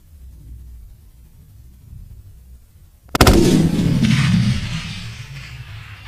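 A single loud hunting gunshot cracks out after a few seconds of quiet outdoor ambience, followed by a long, booming echo that rolls away and slowly fades.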